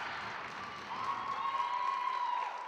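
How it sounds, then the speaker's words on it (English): A basketball crowd at a Red Dragons versus Plattsburgh game applauds steadily after a defensive play, a continuous wash of clapping and cheering with a rising whistle-like tone. "Crowd showing their appreciation for Casey Hayes and her excellent work down low."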